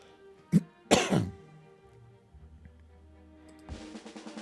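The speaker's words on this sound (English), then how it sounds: "God, I gotta clear my throat again." Two short, sharp throat-clearing bursts close to the mic, then quiet room tone and a faint hiss at the end.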